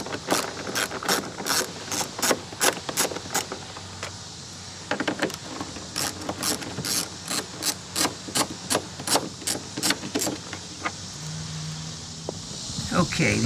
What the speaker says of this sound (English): I'm just going to use my 1/4 inch ratchet right here to get these things off